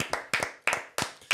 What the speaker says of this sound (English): Let's clap it up for that draft.